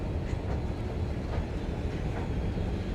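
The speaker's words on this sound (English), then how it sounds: "Every now and then you'll see a LRT go by as they continue testing the service" An LRT train rumbles steadily through an underground station vault, a continuous low, dense roar that stays loud and even throughout with no voices.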